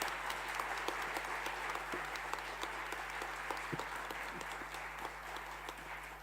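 Steady applause from a conference audience honoring committee members, dense and even clapping at moderate distance that holds for about six seconds with a faint low hum underneath.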